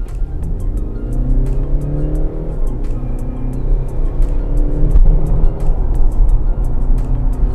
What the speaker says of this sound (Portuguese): E quando acelera, acelera com muita força.